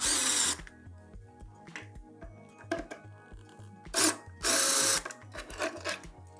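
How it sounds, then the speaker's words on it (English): An electric drill whirs in short bursts, biting through an electric scooter's metal frame, with quieter clicks and motor hum between the louder runs. "And now we have to drill the hole through this frame."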